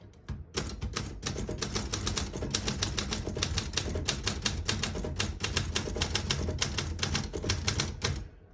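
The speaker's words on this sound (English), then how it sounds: "Absolutely magnificent typewriter. Arguably the best typewriter ever produced." Rapid keystrokes on a 1968 Olympia SM9 portable typewriter, a dense run of sharp, close clacks with slight pauses, continuing loudly and steadily with no talk.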